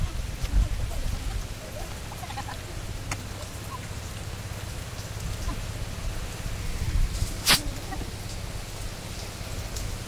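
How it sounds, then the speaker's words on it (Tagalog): Rain falls steadily on a roadside while people wait for a tricycle, a constant broadband patter with a low rumbling undertone throughout and one brief louder burst near the end. "May ulan eh."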